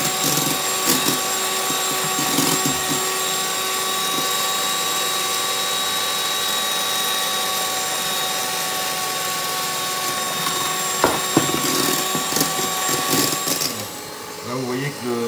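An electric mixer whips beaten eggs as sugar is added for a chocolate cake batter, a steady continuous whirring hum with faint mechanical tones, running throughout with brief clatters near the end.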